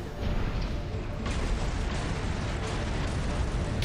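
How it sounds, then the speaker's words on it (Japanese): A sustained explosion in the mech combat video game Armored Core VI roars as a dense, loud blast of noise with several sharp bursts within it, lasting the whole stretch. "爆発するぞ、気をつけろ。"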